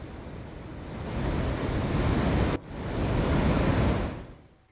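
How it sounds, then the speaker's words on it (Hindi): Swollen Chenab river rushing through the opened gates of Salal Dam after heavy rain, a loud, steady roar of churning water with a brief dip midway before the torrent swells again. "देखिए, सलाल डैम के गेट खोले गए हैं। उफान पर कैसे चिनाब नदी दिखाई दे रही"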